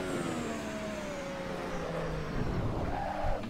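A Ferrari SF15T Formula One car at full throttle in Assetto Corsa, its high engine whine rising steadily and loud throughout with tire noise beneath, no voices.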